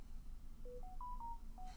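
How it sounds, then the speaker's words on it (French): A telephone gives off a short series of soft, distinct electronic tones at stepped pitches, quiet and steady over a low background hum, with no voices. "désolé pour le téléphone qui sonne"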